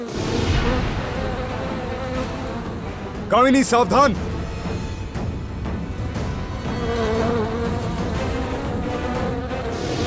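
A swarm of bees hums as a dense, continuous buzz through a dramatic TV serial scene, under music and effects, with a brief whooshing warble in the middle and a voice calling out.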